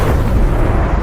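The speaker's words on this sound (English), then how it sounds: "A catastrophic explosion shook the earth." A loud, deep explosion sound effect rumbles as a sustained low boom with no distinct onset, heavy and saturated throughout the brief span, with no speech.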